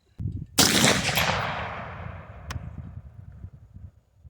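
A 6.5 Grendel rifle fires a 140 gr cast bullet outdoors, one sharp close report followed by a long rolling echo that fades away.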